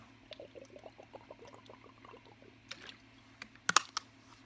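Someone gulps water in a quick run of soft, rhythmic swallows close to the microphone, followed by a few sharper knocks, with no talking.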